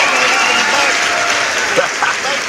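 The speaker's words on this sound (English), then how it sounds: "Let's give him a round of applause, man, for coming on." An audience claps in sustained applause, a dense crowd sound under a voice speaking over it.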